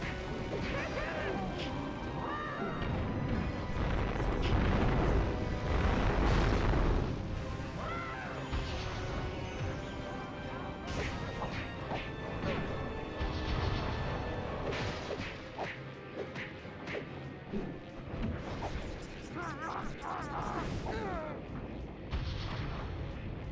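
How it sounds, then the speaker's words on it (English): Explosions and crashing impacts from The Legend of Spyro: A New Beginning video game, with loud booms, whooshes and clattering bursts over about twenty seconds, mixed with a voice talking over the game sounds. "Fuck, that's an explosion."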